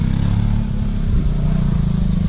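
A motorcycle engine rumbles steadily nearby, a low continuous throb with no voices on top.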